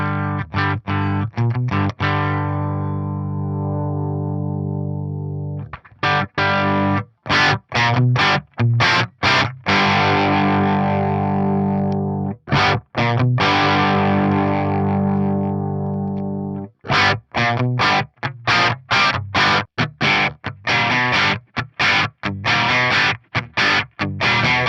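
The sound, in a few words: crunch electric guitar through Carvin Quad-X tube preamp channel 1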